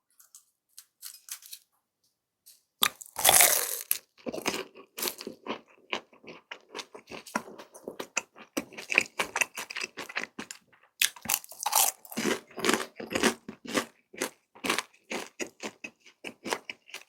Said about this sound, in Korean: 꿀에 찍어 먹어볼게요.